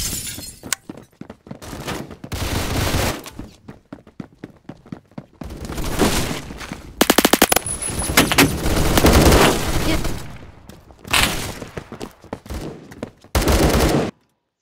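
Assault rifle gunfire in the shooter game Phantom Forces comes in loud, rapid bursts with short gaps between them, mixed with sharp cracks, booms and breaking sounds.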